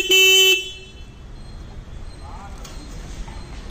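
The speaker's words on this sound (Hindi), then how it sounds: "और हॉर्न कुछ ऐसे साउंड करता है।" A KTM Adventure 250 motorcycle's horn gives one short, loud, buzzy honk of about half a second, followed by quiet background hum.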